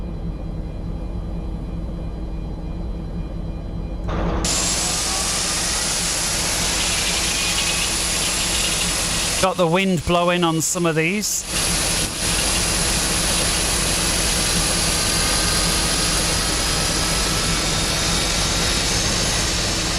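Number 3 jet engine of a Boeing 747 Classic spools up, a loud, steady roar and rising whine that stays present throughout, with a brief dip in the middle and a short spoken remark.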